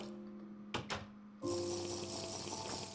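Two sharp clicks, then a sudden rush of flowing water as a block of water is placed in Minecraft, pouring steadily and fairly loud until the end.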